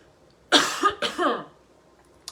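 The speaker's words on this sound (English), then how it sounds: "this cough that has not left me for like 3 weeks" A couple of harsh, close coughs in quick succession, then quiet with a small click at the end.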